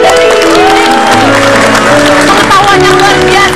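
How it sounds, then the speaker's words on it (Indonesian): A TV studio audience at an Indonesian talk show applauds loudly and steadily for a guest, with voices and music-like tones running over the clapping throughout. "kasih tepuk tangan dong buat Mbak Dewi."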